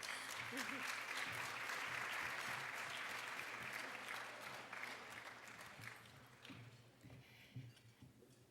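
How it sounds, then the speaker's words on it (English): A crowd at an awards luncheon applauds with dense, steady clapping that gradually thins and fades into scattered claps. "round of applause, please"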